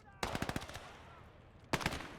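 Bursts of machine-gun fire rattle in a WWII real-time strategy game, a quick run of rapid shots followed by a pause and a second short burst, fairly faint and distant.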